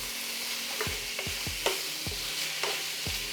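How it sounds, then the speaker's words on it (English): Steak keto fried rice stirred in sesame oil in a hot pan, a steady sizzle broken by about seven sharp scraping strokes at a regular pace, close by with no voices. "Let's give that a good little stir."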